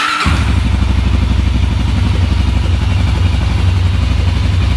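A Honda 400ex ATV engine, running without its airbox, fires up after a brief quiet start and settles into a steady, loud, close idle with a rapid thumping pulse and some mechanical clatter throughout.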